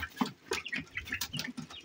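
A rooster makes a run of short, close clucking calls in quick uneven bursts, with no talk over them.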